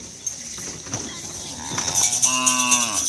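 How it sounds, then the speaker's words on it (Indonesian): Large cattle moo repeatedly with long, harmonic-rich calls at a morning livestock market in Pamekasan, rising louder toward the end over steady background chatter and ambient noise. "Ini ada tim sapi besar guys yang datang."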